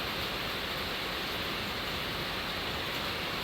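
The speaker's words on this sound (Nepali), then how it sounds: "शीतको थोपा जस्तै पानीको थोपाहरू यहाँ लागिरहेको छ" Steady rain falling on a rainy day among potted plants, a dense continuous hiss of drops with no pauses and no voices.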